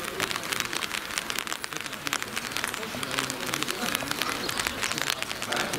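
Rain falls outdoors on Sesika pigeons in wet, windy weather, a dense continuous patter of drops striking surfaces at moderate distance, fairly quiet and even throughout.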